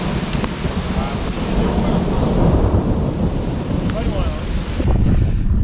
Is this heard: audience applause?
no